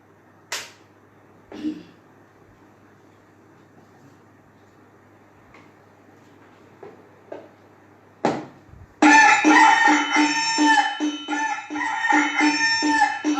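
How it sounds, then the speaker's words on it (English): Rooster crowing at dawn, heard in a few distant, faint calls spaced apart, then a louder burst of crowing and clucking near the end, alone with no talk. "Cocks crow in the morn to tell us to rise"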